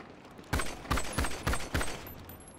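Video game gunfire at an airport shootout, with five hard shots in an uneven burst, each one loud and close, ringing against a faint background.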